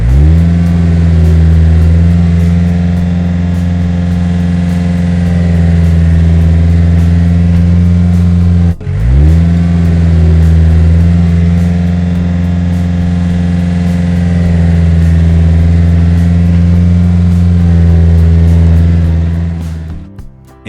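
A tractor engine strains loudly as it climbs a muddy incline, a steady, close, droning roar that dips sharply for a moment as gears are shifted, then resumes before fading at the end.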